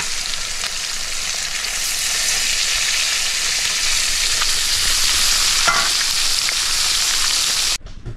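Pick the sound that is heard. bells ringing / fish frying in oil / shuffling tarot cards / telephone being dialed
fish frying in oil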